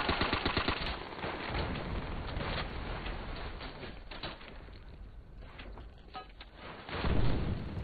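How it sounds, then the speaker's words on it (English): Rapid bursts of machine-gun fire from an upper level in Call of Duty: World at War, loud and dense, rattling almost continuously with a heavier burst near the end and no talk over it. "The machine gun on that upper level."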